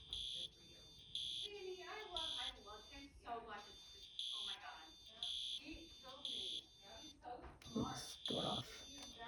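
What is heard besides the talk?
fire alarm sounding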